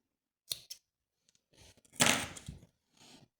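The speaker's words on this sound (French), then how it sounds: "Je coupe mon fil" Scissors snip thread while a tulip-shaped bag charm is being made by hand: two quick close snips, then soft rustling handling noises and a last faint rustle.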